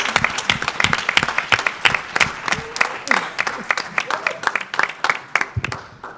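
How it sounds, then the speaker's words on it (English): Audience applause at a talk on mental health strategies for Black Americans: loud, close clapping with distinct individual claps in an uneven rhythm, gradually thinning out, while voices are heard over it. "Another round of applause for that presentation."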